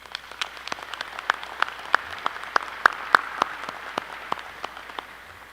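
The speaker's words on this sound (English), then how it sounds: "Please join me in giving these individuals a round of applause." Scattered audience applause at a university commencement ceremony, heard as sparse, distinct claps in a large open space, moderately faint and thinning out toward the end.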